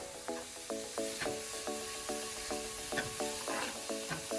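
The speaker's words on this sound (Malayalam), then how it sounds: "ഒരു മീഡിയം ഫ്ലെയിമിലിട്ട് റോസ്റ്റ് ചെയ്തെടുക്കുക." Food roasting in butter with crushed pepper over a medium flame, giving a steady close sizzle with regular light ringing clicks of a utensil against the pan at an even rhythm, no voices.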